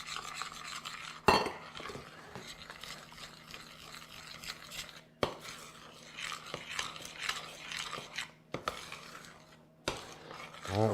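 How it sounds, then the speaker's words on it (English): A spoon scrapes and clinks against a bowl in an irregular rhythm, with occasional sharper knocks, while flour is stirred into brownie batter until just mixed. "All right, we're going to stir this until it's just mixed."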